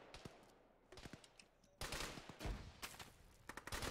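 Bursts of automatic gunfire from an adjacent building in the military shooter Arma, sharp cracks and rattling volleys, sparse at first then a dense louder burst midway, fairly close.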